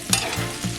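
Sweet potatoes fry in a pan with a steady sizzle and a few brief stirring scrapes, heard up close with no talking.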